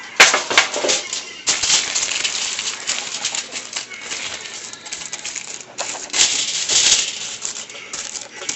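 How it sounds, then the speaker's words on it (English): Aluminum foil being torn and crinkled over baking trays, a loud, busy crackle of sheet foil handled close by in bursts with brief pauses, set in a home kitchen. "So now I'm going to aluminum foil my trays here."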